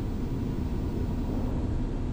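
A Gulfstream G-IV's jet engines roar in a steady, dense broadband rush as the business jet begins its takeoff roll on a freezing day, heard from inside the aircraft.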